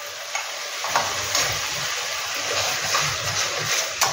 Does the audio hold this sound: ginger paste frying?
yes